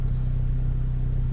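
A 10th-gen Honda Civic Sport hatchback with a newly fitted ACT clutch and flywheel idles just after start-up, a steady low engine hum, close and continuous, with no talking.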